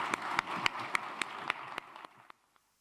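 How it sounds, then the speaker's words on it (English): A live audience at a Chatham House event gives a round of applause, the dense clapping steady and close for about two seconds before cutting off abruptly into silence. "we would like to finish this with a big round of applause for him"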